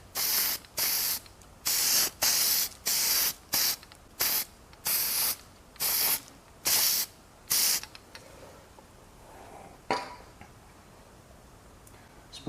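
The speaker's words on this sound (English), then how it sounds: "Put my brake shims on a plastic bag just so I can spray this brake quiet on" Brake quiet from an aerosol can sprays onto front brake shims laid on a plastic bag, for a Toyota Sienna brake pad job: about nine sharp hissing bursts in a steady rhythm, close and loud, then quieter handling noises.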